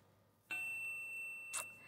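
A text message alert on a phone during a live political call-in show: a bright electronic chime rings out, holds as a steady tone, then a second short ping sounds about a second later, clear over a quiet room.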